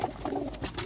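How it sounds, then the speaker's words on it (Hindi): A temple pigeon gives a brief, soft coo, close by and fairly quiet, lasting under a second with no talking. "ये रहा एक मंदिर का कबूतर"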